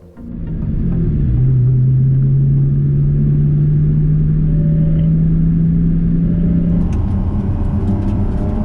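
A Corvette C7R accelerates hard from 50 mph, its engine building into a loud, steady rising drone that holds close and strong for several seconds before the pitch shifts near the end.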